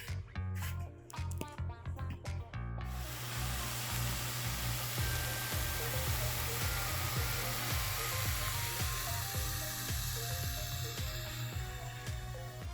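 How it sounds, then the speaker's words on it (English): Lion's mane mushrooms searing flat in a dry pan give a steady, close sizzle and crackle that starts after a few seconds of brief clicks and holds at an even level throughout. "put it back in and kind of fry it like you would like an egg. Straight in the pan."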